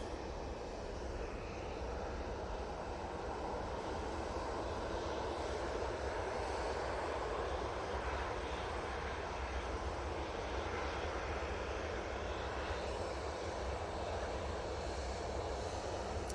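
An airliner departs Manchester Airport bound for Thessaloniki, its engines giving a steady, fairly distant broadband roar that holds evenly throughout with no voices.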